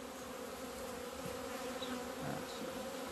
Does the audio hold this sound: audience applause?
no